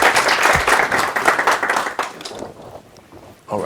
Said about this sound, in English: so let's give a big round of applause to Gordon Moss.